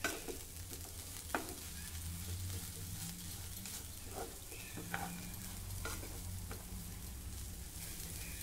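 A spoon stirs coarsely pounded roasted peanut powder into grated potato khichdi in a pan, a steady low sizzle under soft scraping strokes and a few sharper taps against the pan.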